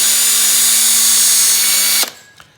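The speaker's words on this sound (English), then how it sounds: "I'm going to drill a hole" A power drill boring a hole into a small figure toy runs at a steady, loud whine for about two seconds, then cuts off abruptly, leaving a faint clunk afterward.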